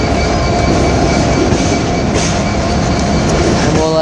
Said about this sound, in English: Now that's a nice sounding engine.